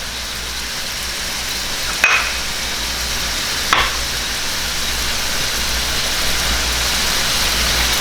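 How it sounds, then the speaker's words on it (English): Asparagus sizzling in a hot pan alongside steak and potatoes, a steady loud frying hiss with two brief clanks of the pan near the start, no talking. "Once that pan is hot enough, I'm going to drop that asparagus in there"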